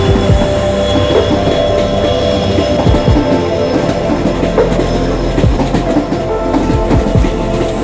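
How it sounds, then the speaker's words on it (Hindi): A passenger train on the way to Guwahati rolls along the rails with a loud, steady rumble. Clickety-clack wheel beats repeat throughout and faint squeals come through, heard from close by with no talk. "एखन ट्रेनते जाम"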